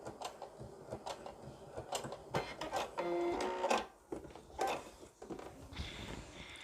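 A sewing machine stitching a straight seam, rapid mechanical clatter in short bursts that start and stop, fairly close and quiet, with a brief higher whine midway.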